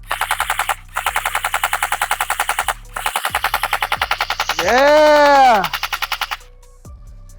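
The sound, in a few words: Tokyo Marui MK46 airsoft LMG firing full auto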